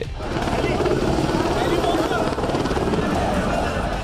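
A helicopter thrums steadily over a building fire in Karachi, a loud, continuous rotor beat that holds throughout, while a voice talks over it.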